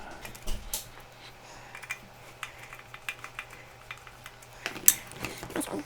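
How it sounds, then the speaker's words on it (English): Screws being driven in to fasten the bracket that holds down a replacement battery inside an uninterruptible power supply, heard as soft close clicks and small metallic taps scattered through the stretch, with one sharper knock near the end. "Screwing the bracket in for holding the battery down."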